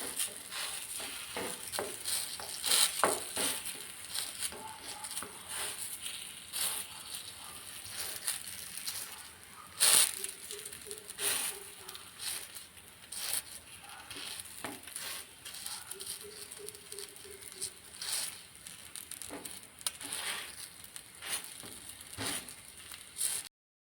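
Wheat flour dough sizzles on an oiled dosa griddle as it is spread out, a steady crackling hiss with scattered pops and a few soft scraping touches, no voices.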